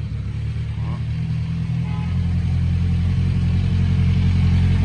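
A 2017 Kawasaki Z1000 motorcycle engine idling close by, a steady low rumbling throb that grows slightly louder and fuller toward the end.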